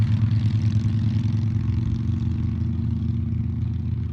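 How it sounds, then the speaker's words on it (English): A steady low engine drone rumbles throughout as motorcycles cruise along the Cascades Loop Highway, loud and continuous with no clear passes. "we have some motorcycles out here enjoying the Cascades Loop Highway"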